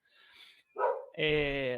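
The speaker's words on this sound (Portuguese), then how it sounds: "falei que ia ter cachorro na gravação, tá aí, ó" A dog barks nearby, one short huff followed by a sharp, loud bark with a drawn-out harmonic whine, heard indoors during a physics demonstration.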